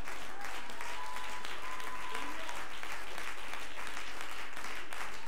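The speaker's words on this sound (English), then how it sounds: "clap your hands to the Lord." A church congregation claps and cheers during a lively praise service, a loud continuous roar of applause with voices mixed in and a few whoops, filling the whole stretch without pause.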